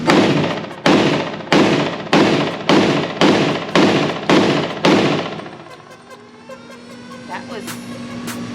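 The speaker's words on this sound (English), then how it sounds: "So I'm just going to shoot." A Glock pistol chambered in .357 SIG fires eight loud, sharp shots at a target in a steady rhythm about every 0.6 seconds, each with a ringing echo, followed by a quieter stretch of background noise.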